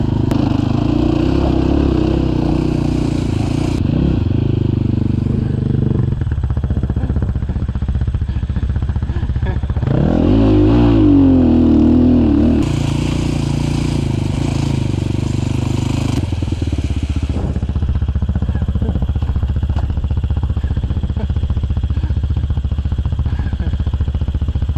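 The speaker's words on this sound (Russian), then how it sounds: "Ну и обороты у тебя!" A Minsk X250 enduro motorcycle engine revs hard and steadily close by, loud and sustained, with throttle swells and a sharp rise partway through, and some clattering over the top.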